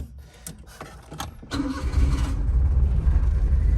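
A small right-hand-drive car engine cranks with a few clicks and whirs, then catches and settles into a buzzy, steady, go-kart-like idle close by.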